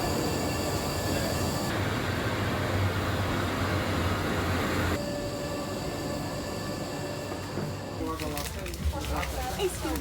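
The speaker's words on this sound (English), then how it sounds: "I think this is one of the standard trains." A standard Swiss train rolls toward Zurich, with a steady rumble of wheels on track and interior hum, while people talk over it and the car's tone shifts partway through.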